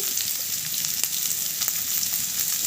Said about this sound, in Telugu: ఈ ఆనియన్స్ మంచి కలర్ వచ్చే వరకు వేగాలండి